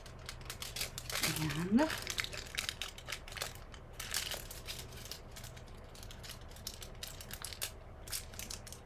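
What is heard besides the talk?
handling and wrapping aluminium foil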